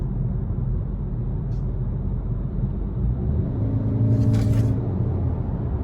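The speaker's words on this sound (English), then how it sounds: "And that turbo boost, when it kicks in, boy, it kicks in." A 2021 Subaru Ascent Touring with a 2.4-liter turbo engine accelerates. A steady low cabin rumble rises into a brief, louder whine and rush partway through.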